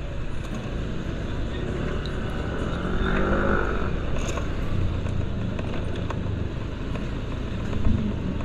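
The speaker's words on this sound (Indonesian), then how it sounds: "Ini saya motor juga." Motorcycle riding through busy traffic in Seminyak, Bali, with a steady rumble of engines and road noise throughout, surrounding vehicles passing nearby.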